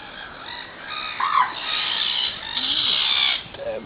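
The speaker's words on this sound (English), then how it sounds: "Damn seagulls." Seagulls squawk and cry overhead, several overlapping calls rising and falling, fairly close and loud against outdoor background noise.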